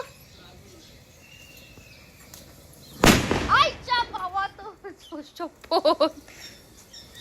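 A single sharp bang from old firecrackers burning in a rubbish pile bursts out after quiet background, followed by excited voices and laughter.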